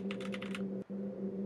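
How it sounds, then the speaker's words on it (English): Keyboard typing in the newspaper-editing game Daily Chthonicle, a quick run of about five clicking keystrokes over a steady low hum, with no talk. "Do I start typing?"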